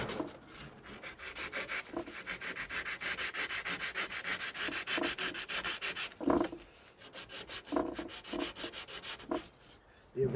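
Steady, rhythmic grinding on a metal part from a 1965 Ford Thunderbird, close and continuous with regular strokes, briefly pausing and resuming near the end.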